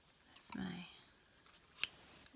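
A pair of scissors snips through necklace thread during beading work, giving a few short, crisp clicks close by with quiet gaps between them, and a brief burst of breathy whispered speech partway through.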